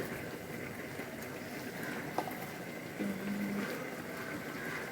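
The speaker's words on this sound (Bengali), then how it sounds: "ঘি দিয়ে ভাজছি তো" Beresta onions frying in ghee, a soft, continuous sizzle and bubbling from close by, with a couple of faint clinks and no talk.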